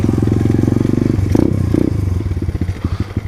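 Small pit bike motorcycle engine running close by with a steady, throbbing putter that surges briefly, then settles into a rougher, uneven idle toward the end.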